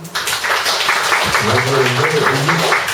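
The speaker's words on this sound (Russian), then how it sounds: "Группа аплодисментов" An audience at a school concert claps steadily after a poem recitation, a loud even wash of applause with a voice speaking over it midway.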